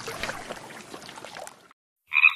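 A cartoon frog at a pond in a children's app gives a short, bright croak that comes alone after a pause, following a soft stretch of background sound.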